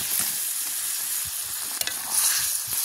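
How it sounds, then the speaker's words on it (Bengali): Fried banana-stem (thor) koftas go into boiling gravy for a Bengali kofta curry, giving a steady close bubbling sizzle with soft stirring knocks and scrapes throughout, with no voices. "এবার ভেজে রাখা কোপ্তাগুলো দিয়ে দেবো।"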